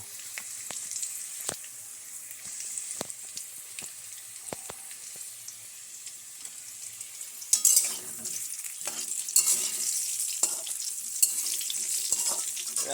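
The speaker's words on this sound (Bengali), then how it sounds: "আলুগুলো প্রায় লাল লাল করে ভাজা হয়েছে এবার তুলে রাখবো" Potatoes fry in a pan as a chicken dish is cooked, with a high sizzle and sharp scraping stir strokes at irregular intervals, the frying growing louder and busier in the second half.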